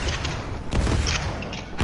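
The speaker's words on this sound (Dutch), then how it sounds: "Jesus, die explosies." Video game explosions come as short, heavy booms, one near the start and a sharper burst around the middle, with another hit at the very end, loud and close against a rumbling background.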